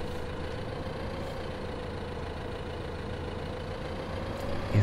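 A tractor engine in the video game Farming Simulator 2015, with a steady low idling drone that holds level throughout and no speech.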